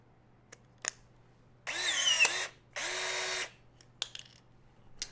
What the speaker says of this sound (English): Put the rivet in the tool. Come up to a test plate that has the correct thickness for the length of the rivet.